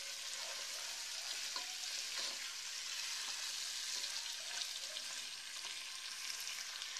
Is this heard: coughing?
no